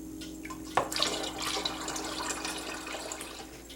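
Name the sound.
cactus juice being poured back into its container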